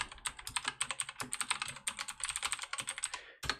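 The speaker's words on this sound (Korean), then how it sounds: "터미널 다시 열어서 컨트롤 C 눌러서 서버를 끄고요" Rapid keystrokes clatter on a computer keyboard at a terminal, a quick irregular run of crisp, close clicks that ends in one last press after a brief pause.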